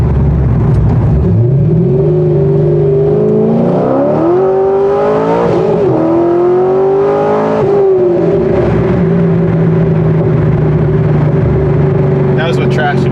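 A Corvette Z06 accelerating hard, its engine roaring loud and close as the pitch climbs steadily through the revs, dips briefly at shifts, then climbs again in one continuous run.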